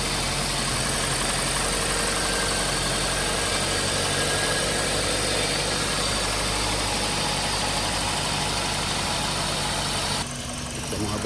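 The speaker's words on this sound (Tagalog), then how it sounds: "naka-cold start siya. Matiling na yung andar niya." A Toyota Altis engine idles after a cold start with lost compression in cylinders three and four, a loud, steady, rough drone that continues unbroken before dropping off near the end.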